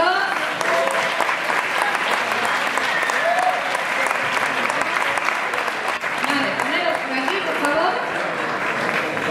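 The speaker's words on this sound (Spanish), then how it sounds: "Venga, un aplauso para ellas dos." A live audience at a Bang Bang session presentation gives two volunteers a sustained, dense round of applause with cheering voices mixed in. The clapping stays loud and steady for the full length.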